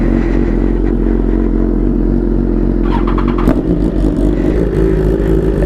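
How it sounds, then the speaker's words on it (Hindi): A Suzuki Gixxer superbike's engine starts up and revs in a parking area, a loud, steady idle with low rumble and a sharp rev burst partway through, close to the microphone. "देवाशीष भैया ने जिक्सी को स्टार्ट कर दिया और मैं अभी बेब को स्टार्ट करता हूँ।"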